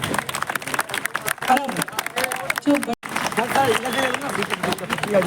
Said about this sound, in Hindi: बहुत बहुत धन्यवाद सर, एक बार जोरदार तालियां।